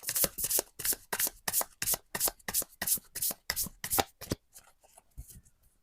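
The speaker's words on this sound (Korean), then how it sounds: "한 번 더 셔플할게요." A deck of tarot cards is shuffled up close in a quick run of about fifteen crisp riffling bursts in steady rhythm, then a few softer taps as the deck settles.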